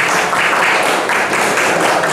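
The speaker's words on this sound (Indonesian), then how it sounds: "Beri tepuk tangan buat kelompok 3 ya yang sudah sampai" Classroom audience applauding a student group after their presentation on firewall configuration, loud dense clapping from many hands, continuous and close for the whole stretch.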